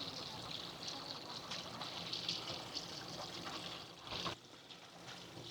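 Water trickles and flows steadily through an RV holding tank during cleaning, a faint continuous wash with a brief surge near the end.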